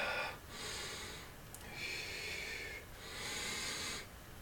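Slow, deep breathing during qigong practice: three long, airy inhale-exhale cycles, close and alone, with short pauses between them.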